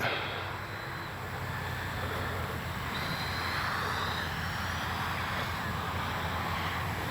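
Freewing 70mm BAe Red Hawk RC jet powering up for a go-around, a steady, airy turbine roar with a rising whine midway, heard from a distance over wind.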